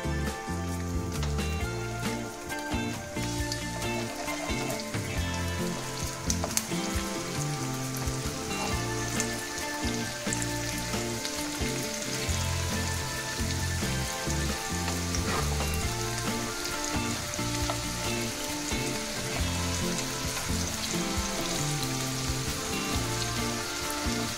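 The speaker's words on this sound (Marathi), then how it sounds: "तेल तापलंय आपलं, आपण आपले हॅश ब्राउन ह्याच्यामध्ये ठेवूया।" Potato hash brown patties frying in hot oil on low heat, a dense continuous crackling sizzle that holds loud and even throughout, mixed with a steady hum.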